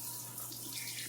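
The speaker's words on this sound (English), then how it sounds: "what I like to do is I like to put some warm water in here" Warm water runs steadily from a tap into a cast iron pan, making a continuous, close, hissing splash with no voices.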